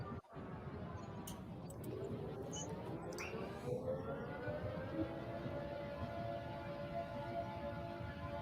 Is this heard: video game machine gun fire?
no